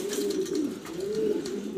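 Racer pigeons coo in a low, continuous warbling rumble close by, the soft throaty call rising and falling without pause.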